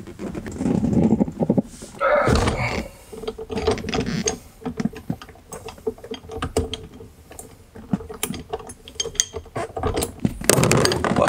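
A 22 mm socket wrench ratchets loose the steering wheel nut on a Mercedes W116 during dashboard removal. Close, loud bursts of rapid ratchet clicks come with clunks and handling noise, with no talk.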